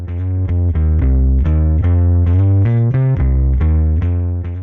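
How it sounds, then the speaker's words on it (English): A low synth or bass line pushed through a distortion plugin with an EQ low-shelf boost, loud and sustained with gritty harmonic buzz, playing a rhythmic sequence of stepped notes with no voice. "apply an opposing low shelf boost after the distortion plugin"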